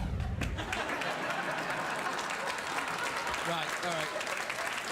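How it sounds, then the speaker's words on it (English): A studio audience on a late-night talk show claps in a dense, sustained round of applause, loud and close, while someone speaks briefly over it. "Sometimes you can tell what a round of applause from a studio audience means"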